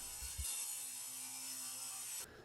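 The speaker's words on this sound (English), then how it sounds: "I'm going to rip all my stock to 1 inch." A table saw rips wood stock to one-inch width, a steady high-pitched whine with a brief low thump at the start before the cut ends abruptly.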